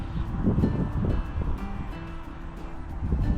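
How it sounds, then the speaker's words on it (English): Wind blows outdoors at a campsite, gusting in low rumbling buffets against the microphone with a steady rustling hiss beneath. "It's a bit windy out here."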